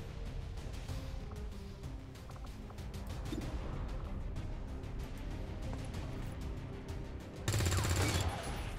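Gunfire in XCOM 2, a busy rattle of shots under steady battle noise, ending with a sudden loud burst near the close.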